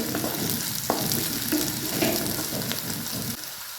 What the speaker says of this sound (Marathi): दोन तुकड्यामध्ये मिरच्या कट करून घेतलेल्या दोन हिरव्या मिरच्या ते टाकायचे